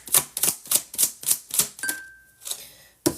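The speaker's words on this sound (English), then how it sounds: "I shuffled again because it didn't fully pop out" Tarot cards shuffled by hand in a quiet room: a steady run of about seven crisp riffling bursts at an even rhythm, close and fairly soft, a brief pause, then one last sharp snap.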